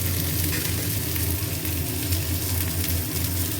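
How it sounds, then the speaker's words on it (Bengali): Leafy greens sizzle and crackle loudly in a hot pan, a dense continuous frying hiss with no voices. "শাকটা একটু ভাজা হোক"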